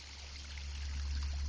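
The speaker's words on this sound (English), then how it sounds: "See the water coming in from" Water trickles steadily into a pond at a desert inn, a soft continuous babbling and splashing, faint and close, with no voices.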